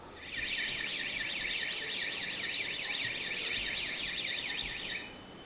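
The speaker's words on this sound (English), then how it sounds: "what you're hearing there is the sirens from the smoke alarms in the property." Smoke alarms sound inside a burning house, a loud, continuous, high-pitched warbling siren that rises and falls rapidly and holds steady for about four and a half seconds before cutting off.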